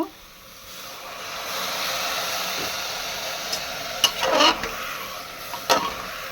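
Masoor dal with fresh pumpkin greens being stirred in a pan, a soft hissing simmer with a few sharp scraping clinks of the spoon toward the end, no talk.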